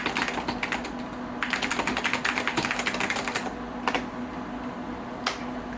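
Typing on a Xerox 6085 Daybreak computer keyboard: dense bursts of quick keystrokes clatter close by, pausing briefly between runs, with a couple of isolated key taps near the end over a steady low hum.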